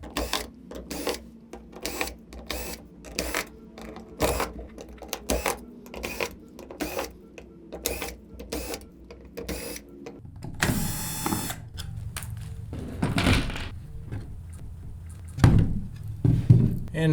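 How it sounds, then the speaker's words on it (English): Screws come out of the backing plate of a Minn Kota Ultrex trolling motor foot pedal with a quick series of close clicks and taps, then scattered handling thumps and a brief rustle. "flip the foot pedal over and take the screws off of the backing plate"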